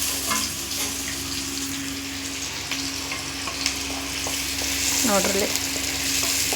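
Poori dough sizzles and bubbles in a pan of hot oil, a dense, continuous close-up frying hiss with occasional stirring, while someone briefly speaks over it.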